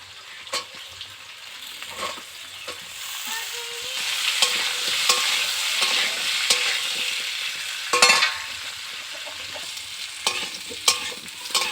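Steady sizzling of potatoes and radish frying in a pan, with intermittent scraping and stirring clatter throughout; no voices.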